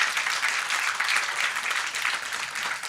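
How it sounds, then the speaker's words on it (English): Audience applause at a flag handing ceremony during a discussion festival stage event, a dense, steady crowd clapping sustained at even loudness throughout with no talk. "So this was an applause to the flag handing ceremony"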